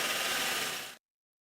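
Unibit step drill enlarging holes in a car door panel to a quarter inch, a steady loud grinding whir that cuts off abruptly after about a second.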